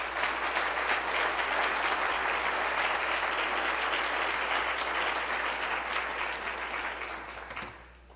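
An audience at a CCL fall meeting breaks into loud, full applause that stays strong for several seconds, then gradually thins and fades out at the end.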